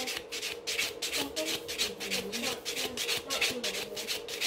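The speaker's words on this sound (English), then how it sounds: "go with the buffer, and just buff and smooth out any surface" A nail buffer rubs back and forth over gel nails in a steady, rapid rhythm of close, soft rasping strokes, with faint background noise underneath.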